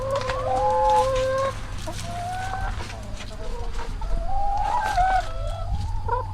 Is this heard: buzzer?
no